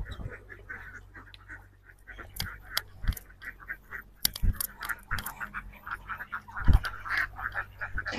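A flock of farm ducks quacks at feeding time, with repeated loud, nasal honking calls close by and scattered clatter and knocks in between.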